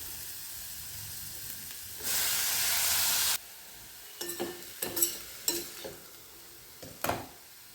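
Shredded cabbage tipped into a pan of sizzling chilli-garlic tempering, giving a loud burst of hissing spray for about a second, then softer frying with intermittent scrapes and stirring clatters.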